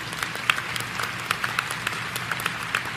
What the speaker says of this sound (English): Teachers clapping.